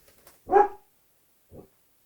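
A three-and-a-half-year-old female dog barks indoors, one loud close bark followed about a second later by a shorter, softer one, then silence. No one speaks.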